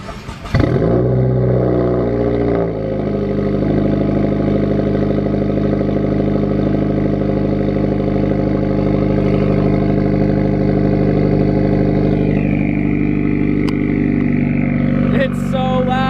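Subaru WRX fitted with a Grimmspeed J pipe exhaust cranks and fires up, then settles into a loud, steady, rumbling idle with a deep diesel-like drone, close by and sustained.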